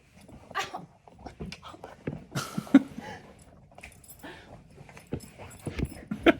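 A dog makes whines and short barks in scattered bursts, close by, with clattering like jangling keys and some light talk mixed in.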